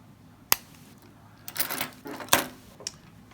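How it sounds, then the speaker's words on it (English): Wire cutters trimming excess soldered wire inside the earcup of Sony MDR-7506 headphones, giving a couple of sharp, isolated clicks and snips with quiet handling between. "you can trim off this excess wire"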